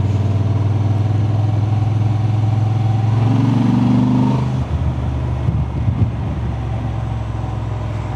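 Honda Transalp 750 motorcycle engine under way on the road, a loud, deep, steady drone that rises slightly in pitch, then eases off with rougher low rumbling.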